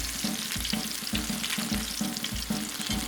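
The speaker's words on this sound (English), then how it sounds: "drop these into a deep fryer or a pot of 350 degree peanut oil" Steady crackling sizzle of tater tot casserole bites deep frying in 350 degree peanut oil, with a soft rhythmic thumping underneath, close and continuous.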